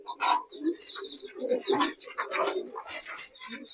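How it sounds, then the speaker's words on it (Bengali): Pigeons, including lively local colored birds kept in a loft, coo and call in a close, busy cluster of bursts that run throughout, with scattered chirps and rustling mixed in. "এই যে খুব খুব চঞ্চল কবুতরটা।"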